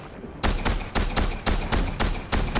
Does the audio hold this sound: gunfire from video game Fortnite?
yes